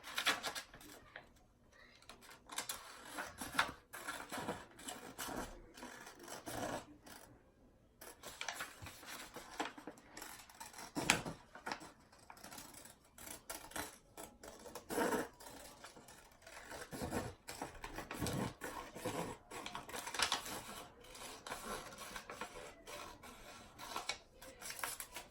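Scissors cut through moccasin material up close, with intermittent snipping, rubbing and rustling of the material in short irregular bursts at a low level, with no talk.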